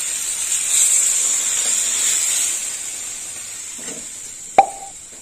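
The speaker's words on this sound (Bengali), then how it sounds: "এবার দিয়ে দেবো সিদ্ধ করে রাখা ডাল।" Boiled mung and masoor dal for a bitter gourd dal goes into a pot of fried spices: a steady sizzling hiss, then one sharp wet plop near the end.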